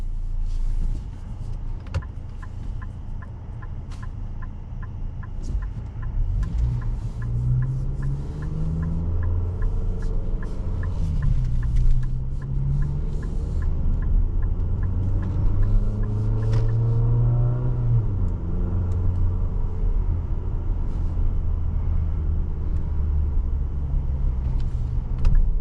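A 2026 Infiniti QX60 Autograph driving in sport mode, its cabin full of a steady low road rumble and engine drone with rising and falling tones as it accelerates, plus faint ticking.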